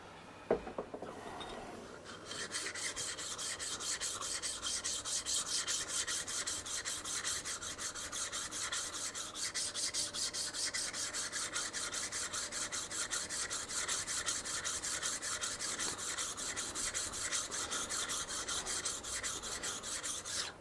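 A plane blade or chisel back being flattened on a sharpening stone: a continuous rhythmic rasping scrape, strokes closely spaced and steady, close and alone after a brief knock at the start.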